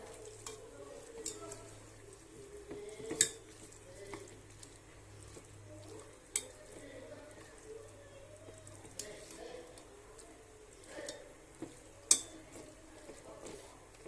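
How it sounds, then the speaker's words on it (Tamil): Half a kilo of mutton sautéing in oil for kuruma, a soft steady frying hiss close by, broken by sharp clinks of a spoon stirring against the pan, with talk over it. "நல்லா ஒரு 5 minutes மட்டன் நல்லா இந்த எண்ணெயிலே நல்லா வதங்கட்டும்"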